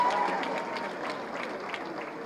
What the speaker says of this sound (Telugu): గట్టిగా చప్పట్లు కొట్టండి అందరూ